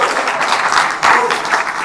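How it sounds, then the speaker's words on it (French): A congregation applauds inside a church service at Eglise de la Brie, a fairly loud burst of clapping with a brief dip midway before it picks up again, close and lively. "Sarah, on peut l'applaudir."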